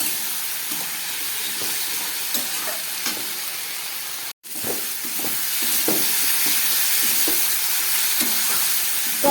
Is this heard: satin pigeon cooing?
no